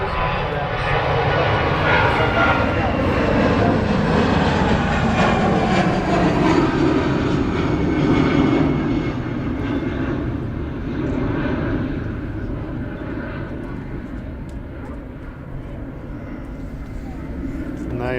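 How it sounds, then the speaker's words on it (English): An easyJet Airbus A320 rotating on takeoff from Manchester Airport, a loud, broad jet engine roar that holds strong and then slowly fades as the aircraft climbs away, with a voice talking over it. "that must be outbound, one of their Airbus 320 and it's just rotating off the"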